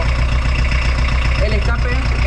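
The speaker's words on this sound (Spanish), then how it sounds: "no se escucha prácticamente nada más que bueno el sonido del propio motor gasolero" A VW Saveiro G1 diesel engine idling steadily with a low, even rumble, heard up close after exhaust installation; faint voices may sit under the continuous drone.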